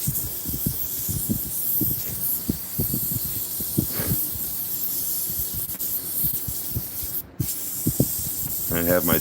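Compressed air from an air compressor blows out a wood carving in steady hissing bursts, close and fairly loud, with a generator-type hum and faint speech-like sounds mixed in behind.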